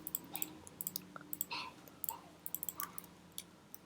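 Computer mouse clicking while building a car in Roblox: a quiet run of sharp, irregular clicks close to the microphone, some in quick pairs, over a faint background hum.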